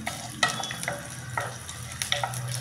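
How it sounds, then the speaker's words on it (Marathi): Green chilies sizzle and crackle in hot ghee for sabudana khichadi, a steady close frying hiss with a few louder pops and stirring scrapes, no talk. "तूप तापलं की त्याच्यामध्ये आपण मिरची घालूया."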